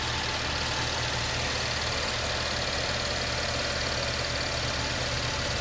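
A 3.6 liter V6 in a 2015 Chevy Impala Limited with about 25,000 miles runs steadily at idle, a constant low engine hum with a broad hiss, close and unbroken with no talk.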